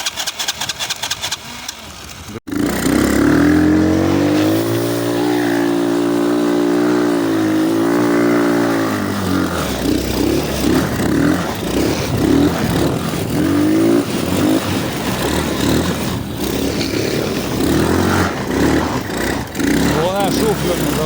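A quad bike engine idles roughly, then revs and rises in pitch as the ATV pulls away, loud and close, with someone speaking briefly over it.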